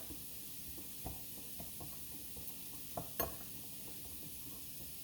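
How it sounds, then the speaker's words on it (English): Spoon stirring dry meatloaf seasoning together in a bowl, giving faint, irregular light scrapes and taps over a soft background hiss. "So what I'm going to do is give it a stir. Just stir it all, combine it all together."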